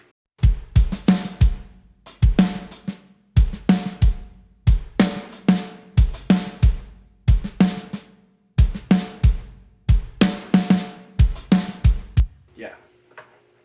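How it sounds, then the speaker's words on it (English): A punchy drum groove from a beat made in Logic Pro loops steadily, with booming kick hits and snappy snare and percussion in a repeating rhythm, played alone. "So the drum groove sounds like this."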